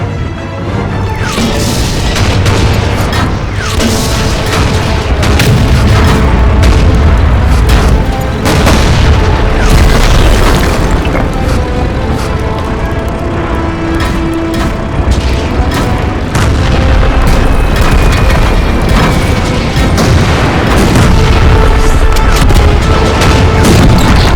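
Cartoon tanks fire on the giant Ratte tank in a dense, unbroken barrage of booming cannon shots and explosions, loud and close throughout.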